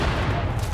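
Many grenades go off in a video game battle, a dense, continuous barrage of low booms and gunfire-like blasts that runs loud and steady through the short stretch, with no clear gaps between explosions.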